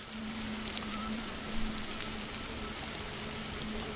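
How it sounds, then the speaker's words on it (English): Steady, even hiss of rain falling in the video game Block Story, a constant wash of soft patter with a faint low hum underneath. "It's raining, lovely."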